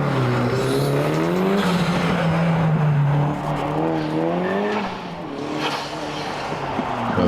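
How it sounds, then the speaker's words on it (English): A 1600 Datsun race car climbs a hillclimb track, its engine revving hard and rising and falling through gear changes at a moderate distance, with a brief dip before pulling away again. "Reese Moldham now on track in his 1600 Datsun"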